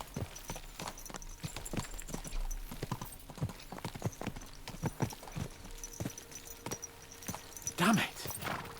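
Horses gallop along in Kingdom Come: Deliverance 2, a steady run of hoof clip-clops close by, ending in a brief whinny near the end.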